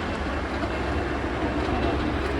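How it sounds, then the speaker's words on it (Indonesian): A train station in Copenhagen, Denmark at night, with a steady rumble of rail traffic and a faint clickety-clack running continuously throughout, no voices present. "ini stasiun kereta Copenhagen"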